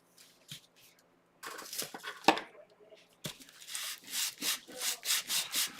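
Sandpaper rubbing on wood to level a surface on a guitar project, with rough scratchy strokes that settle into a steady back-and-forth rhythm toward the end, close up and without talk.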